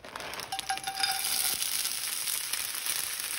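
Cauliflower fried rice with soy sauce and egg sizzles steadily in a hot pan, a loud continuous hiss with light pops and a faint clink of utensil near the start.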